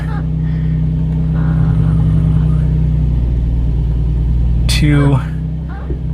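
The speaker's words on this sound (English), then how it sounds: "See if the clutch engages reverse." A 2003 Infiniti G35 engine idles with a steady low rumble as the clutch engages reverse, loud and close, with a brief squeaky mechanical chirp near the end before the engine note drops slightly.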